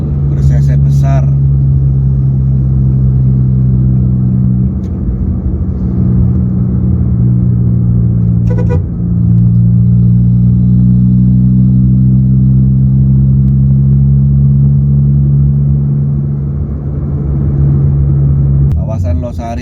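Cars speed past on a busy road at over 80 km/h, a steady close rumble of engines and tyres with rising and falling swells as vehicles pass.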